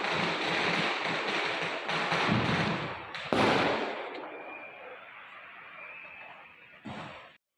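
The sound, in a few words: firecrackers bursting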